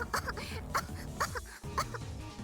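A character's repeated coughs in the visual novel Steins;Gate, a rhythmic series of four or five bursts over steady background music, with no one talking.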